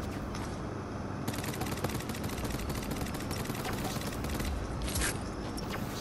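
Rapid automatic gunfire in the Fortnite battle royale video game, dense continuous bursts of shots filling the whole stretch, loud and close.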